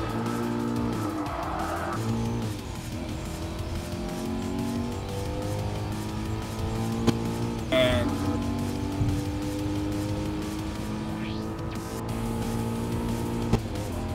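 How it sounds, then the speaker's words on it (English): A Ford Mustang in Gran Turismo Sport drives hard with a steady droning engine, rising and falling revs and tire squeal through turns, sustained and loud throughout. "I am legit driving a Mustang right now"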